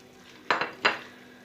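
Minced meat with pepper paste and garlic stirred in a pan, two quick scraping clinks of a utensil against the pan over a quiet background, with no talk.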